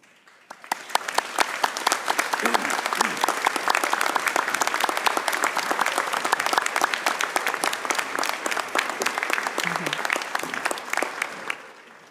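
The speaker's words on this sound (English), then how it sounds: "express your gratitude to your family and friends with a round of applause." A graduation audience gives a long, dense round of applause, many hands clapping loudly and continuously for about ten seconds before tapering off at the end.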